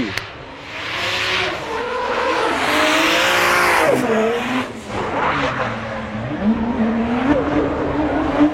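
A drift car roars past during a Drift Masters run in Riga, with loud squealing, skidding tyres and a rising and falling engine note that sweeps by close and then fades slightly.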